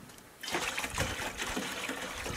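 Apple cider vinegar pours into a jar after a short quiet lead-in, a steady close trickling gush that keeps going to the end with no talk.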